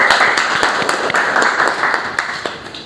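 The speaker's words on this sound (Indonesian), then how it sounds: "tepuk tangan untuk kelompok 1" A classroom audience of lecturers gives a student group a round of applause, dense steady clapping from many hands filling the whole stretch at close range, with no talking over it.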